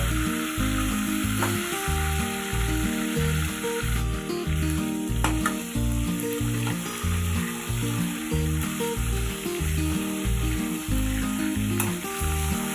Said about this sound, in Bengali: আর মাছগুলো আমি দুটো সাইডেই ভালোভাবে ভেজে নেব।